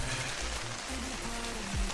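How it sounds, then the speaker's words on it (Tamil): Heavy rain pours down steadily on a hill station in Kodaikanal, a dense, continuous hiss of falling water with no voices, close and constant throughout. "வந்தோடனேயே செம்ம மழை சரியான மழை பெஞ்சிருக்கு"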